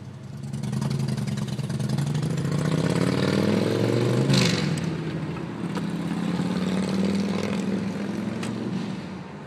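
2003 Toyota Camry engine held at high revs near 6000 RPM while driving at about 40 mph, a sustained strained whine rising and dipping slightly, with a brief whoosh of passing traffic midway.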